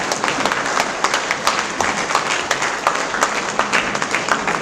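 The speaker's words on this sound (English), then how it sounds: "let's give him a big round of applause" Steady, loud applause from an audience honoring the chief guest at an academic block inauguration in Arunachal Pradesh, a thick wash of many hands clapping throughout with no pause.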